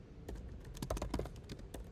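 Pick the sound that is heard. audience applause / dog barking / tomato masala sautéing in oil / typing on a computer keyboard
typing on a computer keyboard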